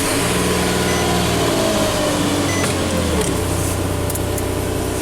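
A Nissan Pathfinder SUV engine starts and runs loud and rough with an exhaust leak, its droning hum shifting pitch a couple of times as it revs and settles.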